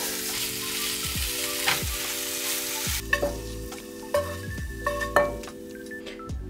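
Pasta frying in a pan while chopsticks stir it, a steady sizzle under a repeating electronic tone, with light clicks and scrapes of the chopsticks against the pan coming in the second half.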